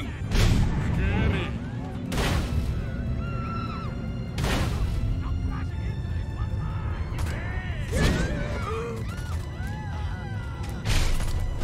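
Gunfire and blasts in the video game Destroy All Humans! 2, heavy booming shots recurring every couple of seconds over a busy mechanical, creaking game soundscape.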